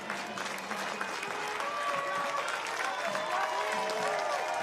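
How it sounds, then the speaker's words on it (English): A soccer stadium crowd at a North Carolina FC versus Las Vegas Lights FC match applauds a player, a steady wash of clapping and cheering with murmured voices mixed in, sustained throughout at moderate distance. "now Olex Anderson Jr. getting a round of applause and soaking it in."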